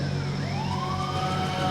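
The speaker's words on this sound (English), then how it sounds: "The Yellowknife Tower dispatches emergency vehicles just in case." Emergency vehicle sirens wail from fire trucks dispatched at the Yellowknife airport runway, a steady rising and falling siren tone held over low engine rumble, continuous throughout.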